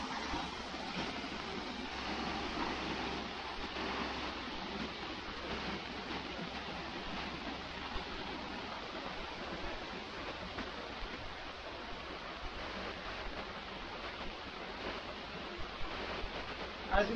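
A waterfall on a coastal hike toward Maracas Bay produces a faint, steady rushing hiss that continues unbroken for the whole stretch, with a few small knocks at the very end.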